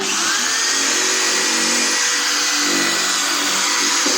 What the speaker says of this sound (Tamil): இப்போ நம்ம திரும்பியும் அந்த இடத்துல ட்ரில் பண்ணுறோம்.